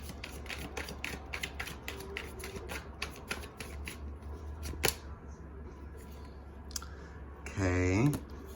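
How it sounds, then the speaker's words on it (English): Tarot cards are shuffled in quick, crisp clicking bursts, with a brief fluttering riffle near the end; close and fairly quiet, no voices. "let's go ahead and shuffle some Tarot in Wonderland"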